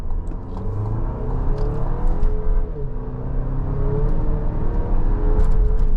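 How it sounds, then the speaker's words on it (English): A 2026 Chevy Traverse RS in sport mode and front-wheel-drive mode accelerates hard, heard from inside the cabin as a steady rising engine drone and road rumble with no one speaking. "we'll pop it into sport really quick to see what this acceleration does feel like in the vehicle"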